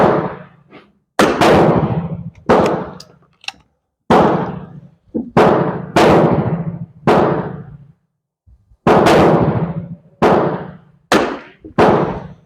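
Shots from a Beretta Olympia .22 caliber training rifle, about a dozen sharp cracks fired at uneven intervals, each with a short decaying tail, close and loud outdoors with no talking.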